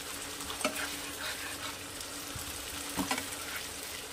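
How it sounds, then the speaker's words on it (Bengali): Masala for a Bengali puti fish curry frying in a pan with a splash of water, a steady close sizzle broken by a few sharper stirring scrapes, with no voices. "আরও একটু ভালো করে কষিয়ে নেওয়ার জন্য আমি দিয়ে দিলাম একটু জল।"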